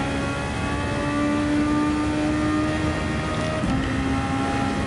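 Superformula open-wheel race car engine in Gran Turismo 7 at Le Mans, a steady high-pitched drone with shifting revs held loud and continuous throughout, with no talk over it.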